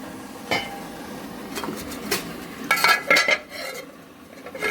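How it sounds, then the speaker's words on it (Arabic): Onions being stirred in a cooking pot, with several scraping and clinking utensil strikes against the pot, some clustered together, close and moderately loud under a low background hiss. "هنقلبها كويس كده عشان البصلة تتقلب فيها كلها"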